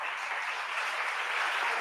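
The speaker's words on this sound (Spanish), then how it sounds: "un aplaudiment molt fort a aquests centres que ens han explicat" Audience applause at a school library conference, a short dense wash of many hands clapping, steady and moderately loud throughout.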